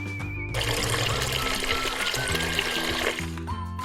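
Water pours and splashes steadily for a few seconds, fairly close, over soft background music.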